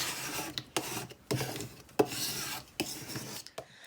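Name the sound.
Cricut scraper rubbing across cutting mat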